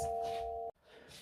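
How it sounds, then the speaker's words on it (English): A steady electronic doorbell tone rings for under a second, then cuts off abruptly, leaving quiet room noise. "Sorry, Capricorn, that was my doorbell."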